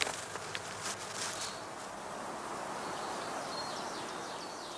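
Honey bees buzz around a heather skep in a spring apiary, a faint, steady, diffuse hum with a few soft rustles near the start and no voices.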